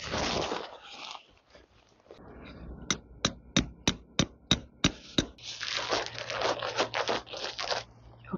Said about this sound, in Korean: 나는 진짜 망치로 때려.